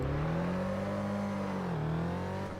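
Loud, steady roar of a Lamborghini Aventador V12 engine in the Test Drive Unlimited 2 racing game, held at high revs with a brief dip in pitch near the end, no voices.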